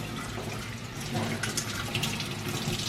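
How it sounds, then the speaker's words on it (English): Tap water runs steadily while tomatoes and basil are rinsed under the faucet for a tomato salad, a continuous close splashing stream that swells slightly louder partway through. "We can wash everything. And we got the tomato. Wash."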